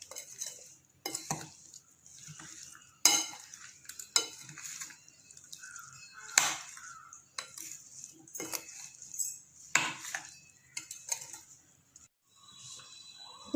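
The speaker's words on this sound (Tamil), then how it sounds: "புளி ஆட் பண்ணதுக்கப்புறம் நல்லா மிக்ஸ் பண்ணிக்கலாம்" A spoon scrapes and clinks in a bowl as tamarind water is stirred into homemade mango pickle, with sharp intermittent knocks and soft wet churning between them, close and quiet.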